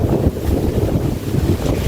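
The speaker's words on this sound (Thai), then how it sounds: "ลมนี่แห้งอยู่พี่น้องเนาะ" Strong, dry wind blows across the microphone outdoors beside a raised rice-paddy embankment, a continuous low buffeting rumble with gusty surges and no voices.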